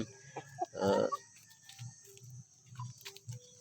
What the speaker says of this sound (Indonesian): Inilah contohnya ayam kampung saya